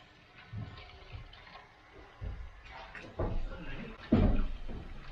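Water rushes and gurgles through newly soldered plumbing pipes and a check valve in an unfinished off-grid home, surging in uneven bursts that grow louder toward the end, fairly close.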